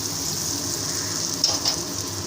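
Fried potatoes and cauliflower tipped into spiced oil for a Bengali aloo phulkopi jhol, a steady close sizzle with a brief burst of stirring scrapes near the middle, no talking.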